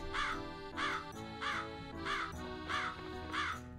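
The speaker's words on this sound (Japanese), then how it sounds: "カラス多ないでござる。" Crows caw in a horror video game from Chilla's Art, six loud, harsh calls in an even rhythm with no talk over them.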